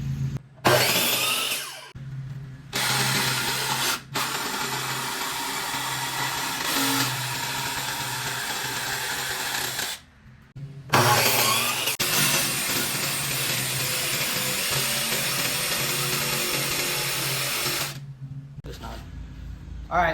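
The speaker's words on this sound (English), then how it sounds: "Got the neck fan and we got the jigsaw, so cutting might go a little bit quicker." A jigsaw cuts through a board: a loud, harsh motor buzz runs in long sustained stretches, stopping briefly a few times and then starting up again close by.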